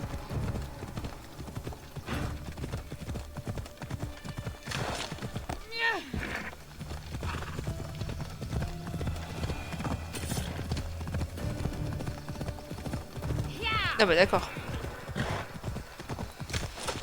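Rhythmic hoof clip-clop of a horse trotting in a video game, steady throughout, with a couple of whinnies and someone speaking briefly in French over it.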